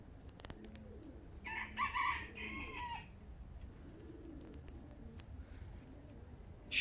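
A rooster crows once, fairly distant, amid outdoor ambience with a few other faint bird calls and clucks around it.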